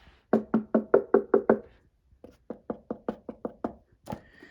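A run of seven quick, sharp knocks on the plastic handle of a Bissell Powerforce bagless vacuum, then a short pause and seven more slightly softer raps, ending with a single louder knock, close and with no talk.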